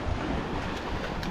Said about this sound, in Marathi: अथांग असा समुद्र